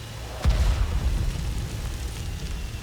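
A tank blows up in the console version of World of Tanks: one sudden, loud boom followed by a low, rolling rumble that slowly fades under the game's steady background noise.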